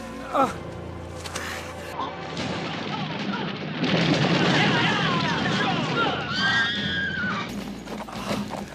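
A horse neighs with a rising whinny amid loud gunfire and booming battle noise, with voices shouting over the chaos.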